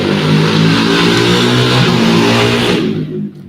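Motorcycle engines revving loudly nearby during a mud race, a continuous rough engine drone that holds steady before cutting off sharply near the end.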